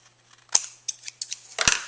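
Scissors trimming the paper edge of a handmade mini album, sharp close snips: one crisp cut, then a run of lighter rapid snips and a final louder double snip, heard without any talk.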